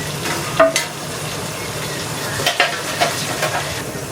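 Onions and tomato fry in a village kitchen pan. A steady sizzle runs under a few sharp scraping clinks of a spoon stirring against the metal, close and fairly loud, with no talking.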